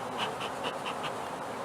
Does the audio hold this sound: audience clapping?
no